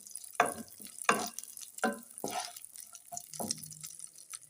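Raisins being stirred in hot ghee in a pan while making carrot halwa, with a few separate scraping stir strokes and light sizzling between them, close and moderately loud, no talking.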